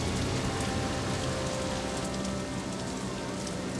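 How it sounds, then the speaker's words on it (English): Steady, heavy rain pours down continuously, a dense hiss of drops hitting surfaces with no pauses or voices. "It rained, and I mean a downpour."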